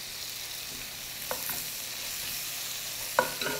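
Onions frying in a pan, giving a continuous soft sizzle with two light scraping stirs partway through, heard close and alone.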